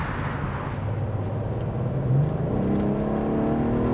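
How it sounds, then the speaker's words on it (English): A BMW 840i engine hums steadily, then its pitch climbs as it revs and accelerates, a smooth mid-range drone with no talking. "Another bit of that engine noise for you."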